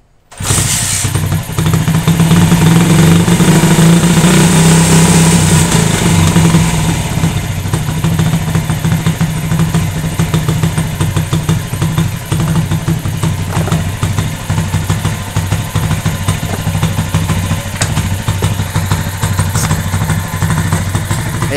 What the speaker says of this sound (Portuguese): O motor já está funcionando, viu? O barulho é do escape mesmo, que ele é daquele barulhento.